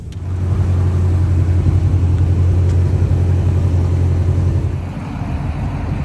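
A 1979 Porsche 928 with a five-speed manual putters slowly along surface streets, its engine giving a steady, loud low rumble throughout that eases off slightly toward the end, with no talking.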